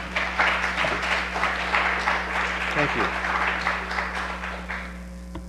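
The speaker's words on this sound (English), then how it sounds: "It's not very often we get a room full of applause." A room full of people at a city council meeting applauds, a sustained dense clapping that fades slightly toward the end, while a voice speaks briefly over it.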